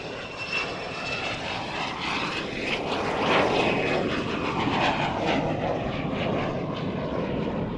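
An Avro Vulcan XH558 bomber rolling down the runway at Waddington, its jet engines a loud, sustained roar that swells slightly midway and holds steady.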